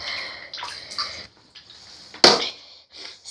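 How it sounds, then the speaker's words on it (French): Small amount of water poured over a cat's head during a bath, heard as brief splashy trickles with one sharper splash near the middle, close by and without talk. "je vais verser un tout petit peu d'eau sur la tête."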